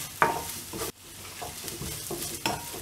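Ginger, garlic and green chillies sauté in a pan with a soft continuous sizzle, broken by several scraping stirs of a spatula at a close, moderate level; no voices.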